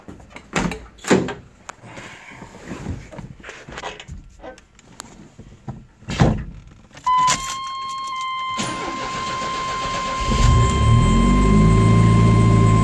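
A 1992 Chevrolet S10 with a 2.5-liter Iron Duke four-cylinder, after sitting for two days, is approached with door and latch clunks, then the starter cranks and the engine catches into a steady, close idle that grows louder.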